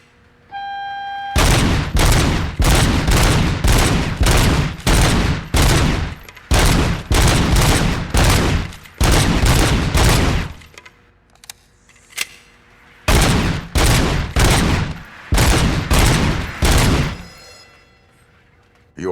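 Rapid bursts of gunfire at a shooting range in RoboCop: Rogue City, loud and close, fired in long repeated strings with short pauses between volleys and a few single shots in a gap.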